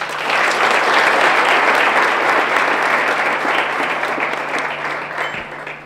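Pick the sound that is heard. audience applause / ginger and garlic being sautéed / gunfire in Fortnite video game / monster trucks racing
audience applause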